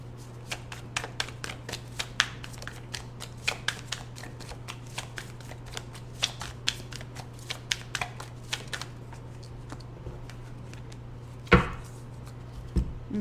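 Tarot cards are shuffled by hand in a steady run of crisp riffles and taps, close and fairly quiet over a low hum, ending with a louder clack.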